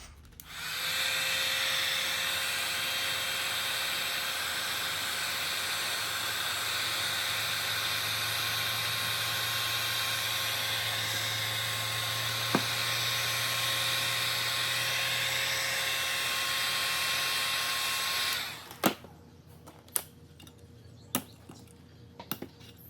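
A heating tool blows steadily on an old speaker being reconed, a loud continuous hot-air whoosh lasting about eighteen seconds before cutting off, followed by a few faint clicks and taps.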